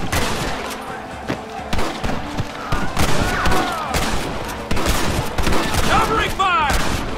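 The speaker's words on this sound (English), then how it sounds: "Covering fire." Rapid gunfire erupts in a Red Dead Redemption shootout with outlaws, dense overlapping rifle and pistol shots in loud continuous bursts, with shouting voices mixed into the battle.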